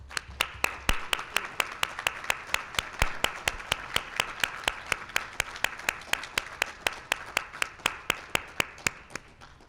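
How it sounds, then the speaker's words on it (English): A single person claps steadily in a lecture hall, loud close claps at an even brisk rhythm for nearly ten seconds, with no talk over it. "And I think a round of applause."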